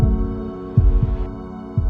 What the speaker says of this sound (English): A breath, a heartbeat.